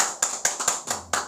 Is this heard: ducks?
no